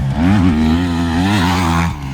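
A 2025 KTM 350 XCF dirt bike engine revs hard and close, a loud buzzing four-stroke note that rises and dips twice before cutting off.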